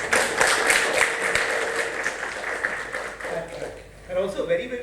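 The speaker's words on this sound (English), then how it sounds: "So a big round of applause to everyone." Audience applause at a school session, a dense broadband clatter of many hands clapping steadily for about four seconds, then thinning out near the end.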